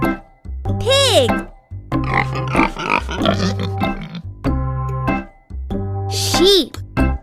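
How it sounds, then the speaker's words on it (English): Pig sounds, likely squeals or oinks, come in two loud bursts over a cheerful children's song with a child singing along and upbeat backing music. "Pig."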